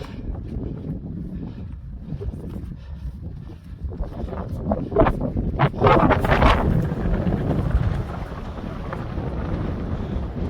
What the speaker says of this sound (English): Whoa, you can feel that wind.